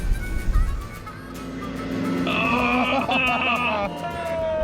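A Triton 4x4 drives an off-road sand track on Fraser Island, its engine droning steadily and rising in effort partway through, with rough rumbling and some faint voices mixed in.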